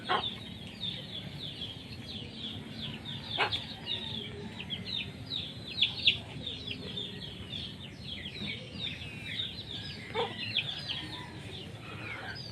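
Chickens cluck and squabble over food at feeding time, a busy overlapping chorus of short clucks at moderate distance with occasional louder calls.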